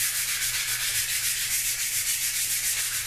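100-grit sandpaper is rubbed back and forth over the wooden stock of a Traditions Crockett .32 squirrel rifle kit, giving a close, steady, rhythmic rasping scratch with no talk.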